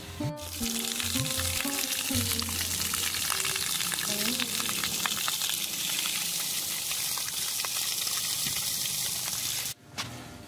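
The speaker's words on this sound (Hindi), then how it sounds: "देखिए यहाँ पानी आ रहा है तो नहा भी लिया जाए" Water gushing steadily from an outdoor source along the Narmada riverbank, a loud continuous rushing flow for about ten seconds, with a sharp break near the end.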